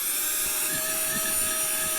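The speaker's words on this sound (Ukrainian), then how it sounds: "ну воно пилососить, але не так добре, як має бути." An Aurora cordless vacuum cleaner runs steadily with a constant high-pitched motor whine and airy hiss, close and continuous with no talking.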